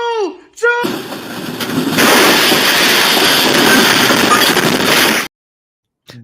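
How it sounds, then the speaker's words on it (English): Train sound effect inserted into a talk show: a loud, steady, broadband roar that rushes in after a brief voice, holds for about four seconds, then cuts off abruptly. "that's a train clip I put in there."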